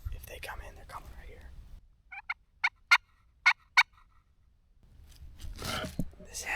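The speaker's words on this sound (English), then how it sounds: "These gobblers are staying." Wild turkey gobblers gobbling in the woods during a spring hunt, a run of five or six sharp, rattling calls in quick succession at moderate distance, with soft whispered talk before and after.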